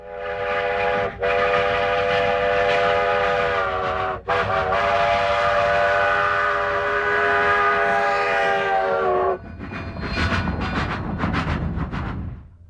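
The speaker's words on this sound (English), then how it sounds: "a sweeping broadside view of number 487 at work, complete with steam, cinders, and its whistle" An American steam locomotive's loud, sustained whistle blows in long blasts over the chuffing and rumble of the train, then the whistle stops and the engine's rhythmic exhaust continues.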